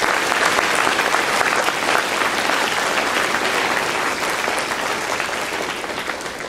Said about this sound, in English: Let's give the Army a great round of applause.